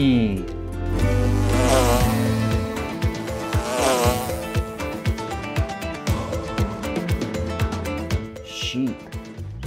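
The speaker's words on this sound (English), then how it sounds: "Bee." A bee buzzes in a short burst near the start, followed by light clicking and tapping as a voice is heard briefly.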